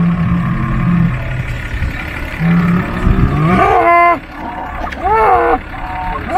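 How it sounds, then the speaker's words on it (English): Cattle on a Montana ranch coming in to water let out two deep, drawn-out moos close by, following a stretch of low rumbling background noise. "there'll be cattle coming into water"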